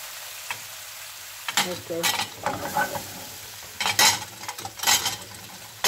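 Tomato sauce ladled over peppers sizzling and frying in a pan for eggs with peppers, a close hiss broken by several bursts of stirring and crackle, with a brief spoken word.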